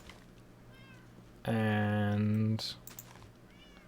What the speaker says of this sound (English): I have a massive herd of cats.